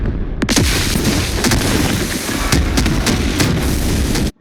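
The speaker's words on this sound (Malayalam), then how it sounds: "ശവപ്പറമ്പ് മൊത്തം വെടിവെച്ച് നശിപ്പിച്ച് ബോംബ് വെച്ച് നശിപ്പിച്ച്" Bomb explosions from an action movie trailer, dense and loud, with several sharp booming impacts standing out over a continuous roaring, rumbling wash of sound that cuts off abruptly at the end.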